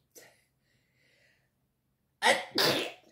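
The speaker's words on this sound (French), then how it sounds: "Chaque fois que je me mets à faire une vidéo, j'éternue." Two sharp, loud sneezes in quick succession from a person doing paper crafts indoors, after a mostly quiet stretch with faint small sounds.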